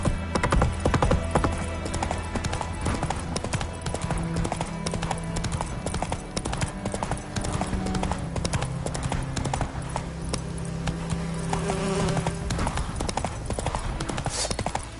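Roach the horse gallops in The Witcher 3, a steady rapid clip-clop of hooves running throughout under game music and ambient sound, with a brief whinny and faint voices.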